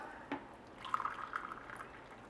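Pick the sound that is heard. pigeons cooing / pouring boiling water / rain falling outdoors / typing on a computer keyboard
pouring boiling water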